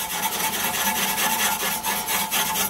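Steady, rhythmic scratchy rubbing of wire wool on a chrome Audi exhaust tip, close up, in quick back-and-forth strokes with no talking.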